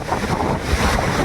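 Heavy monsoon surf crashes at Harihareshwar beach, a continuous loud roar of big breaking waves with rumbling low wash and gusts of wind buffeting the microphone.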